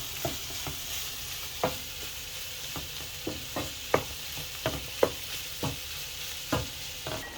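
Karela bhaji fries in a little oil, its soft background sizzle punctuated by irregular sharp scrapes and taps of a spatula turning the bitter gourd, close and clear with no voices.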